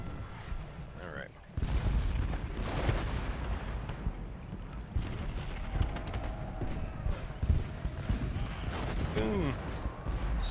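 Artillery cannon fire in the Civil War strategy game Ultimate General: Gettysburg, booming blasts and rumbling gunfire layered over continuous battle noise with background music, fairly dense and steady throughout.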